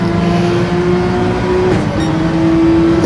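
Race car engines in Gran Turismo 7 at the Red Bull Ring, a sustained loud engine drone holding a steady pitch with a brief dip partway through, with no talking.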